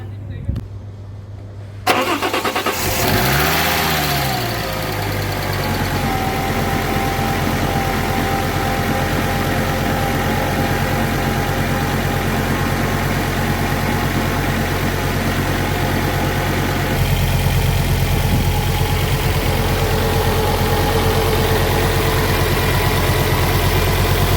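A Fiat 20-valve Coupe engine cranks briefly, catches, and settles into a steady, loud idle close by, with a fresh alternator charging the battery and no one speaking over it.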